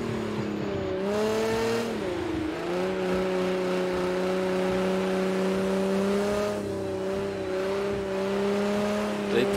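Nissan GT-R Nismo sliding through a snowy corner in Project Cars 2, engine holding a steady, loud, slightly wavering drone with harmonic whine throughout, a brief dip near the two-second mark before settling again.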